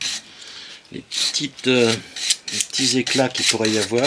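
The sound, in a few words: brushing a wood-turned piece to remove small splinters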